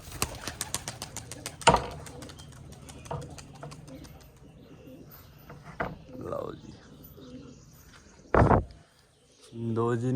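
Pigeons in a loft coo and flutter amid scattered knocks and handling sounds, with a few loud bursts and brief talk near the end.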